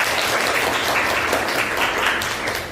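Loud, dense applause from a classroom of students, many hands clapping steadily throughout with no pauses.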